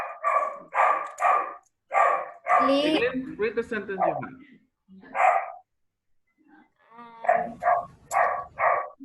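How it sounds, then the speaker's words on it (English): A dog barks in short repeated bursts somewhere in the room, its barks interleaved with a teacher's voice during a classroom lesson. "It's a dog there."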